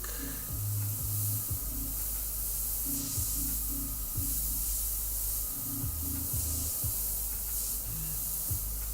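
Airbrush spraying paint onto a Ghost Rider skull-themed panel, a continuous close hiss of air with a steady background hum and faint rhythmic tones beneath.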